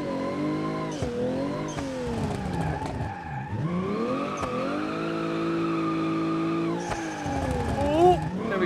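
A car drifts on the NIKKO Circuit track in the BeamNG driving game, its engine holding a high rev while the tires squeal in long sustained wails that dip and rise through the slides.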